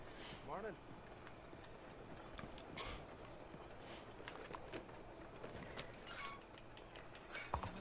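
Horse hooves clip-clop faintly in Red Dead Redemption 2, a loose irregular patter of steps under scattered game ambience, with occasional sharp knocks and someone talking over the scene.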